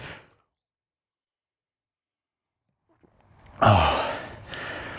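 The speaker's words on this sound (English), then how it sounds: "Just while I'm heavy breathing at you." Heavy breathing after a session on a rowing machine: a short breath, a long silence, then a loud gasping inhale and exhale up close.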